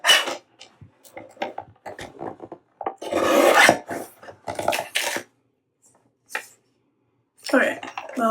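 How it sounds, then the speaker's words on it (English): A paper trimmer blade rasps through paper sheets while a trifold folio craft project is assembled, giving several short scraping cutting strokes in bursts with brief pauses between them and faint voice sounds in the gaps. "So I tried cutting this with the other trimmer."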